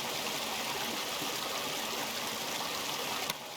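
Stream water flowing in the game Season: A Letter to the Future, a steady close rushing babble of water, continuous and even with no talk.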